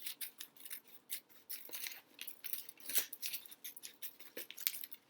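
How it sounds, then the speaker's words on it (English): Scissors snipping through a sheet of paper, a quick run of close, crisp cuts in an uneven rhythm with short pauses, alone in a quiet room. "I'm just going to keep on cutting."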